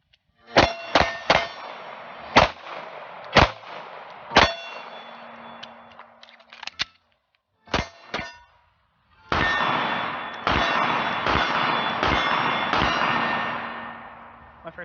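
Canik TP9 Elite Combat pistol firing at an outdoor range: sharp, loud shots in irregular bursts, some in quick pairs, with brief ringing after each and a stretch of steady background noise near the end.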